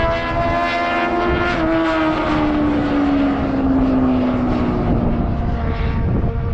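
Side-by-side with a swapped-in Yamaha R6 motorcycle engine racing on a track, a loud, high-pitched engine whine held steady and drifting slowly in pitch as the machine runs, with no talk.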